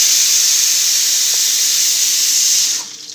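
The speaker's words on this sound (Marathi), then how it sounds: "आता टाकायचा मैत्रिणी कांदा" Onion hits a hot pan and sizzles in a loud, close, continuous hiss that holds steady, then drops away sharply near the end.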